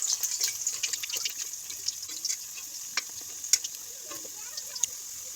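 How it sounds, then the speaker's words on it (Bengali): Carrot pieces fry in hot oil in a village kitchen, a continuous bright sizzle with scattered clicks and scrapes as they are turned over, with no voices over it. "এগুলাকে এখন আমি উল্টাপাল্টা করে ভেজে নেব ভালো করে"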